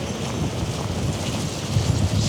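Strong spring wind buffets outdoors during a snowfall in Toronto, a continuous loud rushing roar with gusts swelling toward the end.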